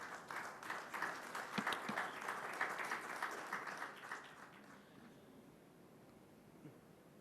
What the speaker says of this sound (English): a big round of applause for our Secretary, Commerce